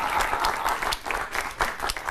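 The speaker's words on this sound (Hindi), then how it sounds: "जोरदार तालियों के साथ।" Loud applause from a crowd greeting a Ramleela actor who plays Ravana, with bursts of clapping rising and falling steadily throughout.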